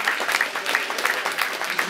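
Audience applause at a judo club awards ceremony, a steady wash of many hands clapping throughout, moderately loud with faint crowd murmur underneath.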